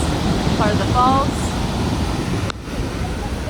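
Broad steady rush of the waterfall in the Grand Canyon of the Yellowstone, a constant roar heard at a distance outdoors, with a person's voice briefly speaking over it.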